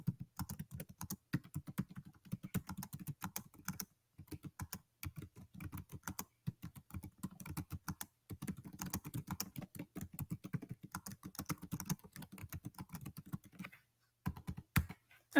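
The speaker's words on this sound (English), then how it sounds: "And then you begin typing." Steady typing on a computer keyboard while formatting an MLA document, with quick irregular key clicks in bursts and brief pauses, close and fairly quiet, no voices.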